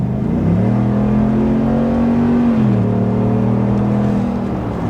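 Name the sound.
2024 GMC Sierra AT4X V8 exhaust revving in sport mode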